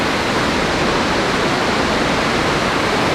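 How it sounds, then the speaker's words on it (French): La Pleureuse waterfall on a mountain hike, cascading in a steady, loud broadband roar of falling water that fills the whole stretch without pause, close by and with no voices. "C'est très rare les cascades comme ça, hein."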